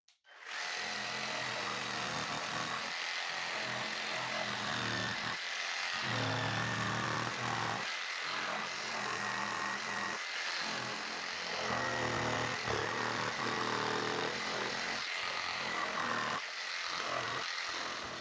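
A £20 Parkside jigsaw saws through wood, its loud, continuous buzzing cut running nearly unbroken and close by, with a few short pauses between strokes.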